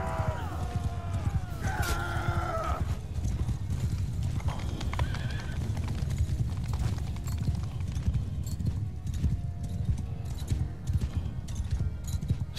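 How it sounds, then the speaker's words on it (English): Rhythmic clip-clop of horse hooves galloping in a Mount & Blade II: Bannerlord battle, with a horse whinnying near the start and steady hoofbeats running throughout. "And our horse, our royal mount, is so much faster than..."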